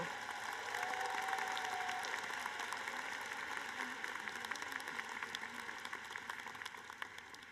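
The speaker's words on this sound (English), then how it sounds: "let's give our families and friends a round of applause" Commencement audience applauding for families and friends, a steady, fairly faint wash of clapping from a large crowd that lasts throughout and slowly thins toward the end.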